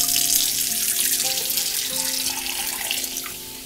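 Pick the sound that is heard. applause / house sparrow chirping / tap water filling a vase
tap water filling a vase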